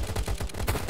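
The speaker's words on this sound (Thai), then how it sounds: "นี่มีเสียงปืนครับข้างหน้าเรา" Rapid bursts of video game gunfire from Last Island of Survival in quick succession, punchy and close, filling the whole short stretch without pause.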